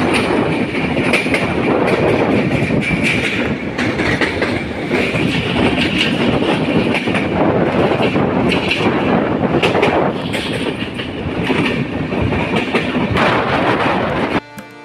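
The Madhumati Express, running nonstop toward Ishwardi Junction with LHB coaches, fills the space with a steady loud rumble and rhythmic clickety-clack of wheels on track, continuous throughout.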